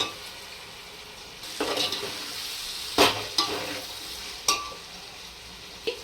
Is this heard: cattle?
no